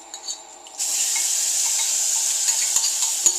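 Lamb for a saag gosht curry drops into a hot pan and bursts into a loud, steady sizzle that holds for the rest of the moment, with a few light clinks of utensils against the pan.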